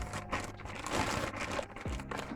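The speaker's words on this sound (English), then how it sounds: "I'm gonna take out this bag, y'all, because this bag is filthy." A dirty bag is pulled out and handled, with close crinkling and crumpling rustles continuing throughout, moderately quiet and without speech.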